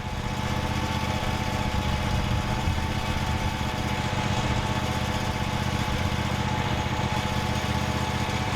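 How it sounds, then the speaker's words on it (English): A small engine drones steadily at close range, the constant buzzing hum of a lawn mower running without pause. "He's getting closer with the lawnmower."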